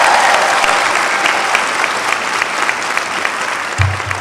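Graduation audience at a 2018 campus ceremony applauds steadily, a dense wash of many hands clapping at even volume throughout, with a brief low thump near the end and no talk.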